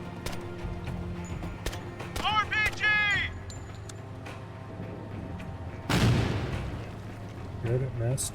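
A rocket blast in the tactical game Door Kickers 2 erupts as a loud, broad boom partway through, following quieter game noise and a brief vocal passage.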